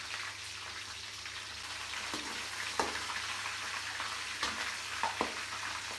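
Green and dried red chillies fry in hot oil, giving a steady, even sizzle across the whole stretch, broken by a few small crackles and pops. No one speaks.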